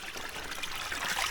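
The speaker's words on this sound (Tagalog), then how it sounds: "Tapos yun, madaming tubig na lumalabas." Clean, cold spring water flows steadily from a natural spring outlet, a close, continuous trickling and splashing with no voices.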